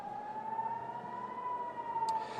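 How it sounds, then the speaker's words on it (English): An air raid siren sounds over Tel Aviv, Israel, a steady sustained wail heard from a distance, holding a single tone with no voices over it. "Kaylee, right now we have air raid sirens that are sounding across Israel's second largest city of Tel"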